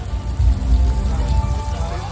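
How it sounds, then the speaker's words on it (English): Artificial rain from sprinklers pours down at the Universal Studios Hollywood flash flood backlot effect, a dense steady hiss of falling water with a low rumble underneath. "this effect is caused from sprinklers, which spray the water straight up into the air and lets it fall back down naturally to Earth"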